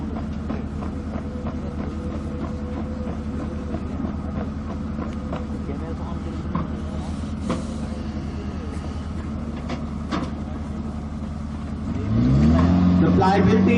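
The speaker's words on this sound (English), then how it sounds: "Using the auxiliary power unit, the gun can move at a maximum speed of 7 kilometers per hour." Bofors 155 mm towed howitzer moving under its own auxiliary power unit, a steady low diesel-like drone and rumble that rises in level near the end as the engine works harder.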